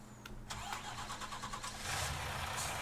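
A truck engine in the Farming Simulator 19 video game cranks and catches, then settles into a steady mid-pitched rumble that swells slightly louder toward the end, heard alone and fairly close.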